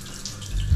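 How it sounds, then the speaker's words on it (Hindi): Water trickles slowly from a tap in Thailand, a soft, close running stream that swells slightly near the end of the short moment, with no talking. "पानी भी एकदम धीमे धीमे आ रहा भाई।"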